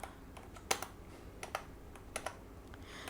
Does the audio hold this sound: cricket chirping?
no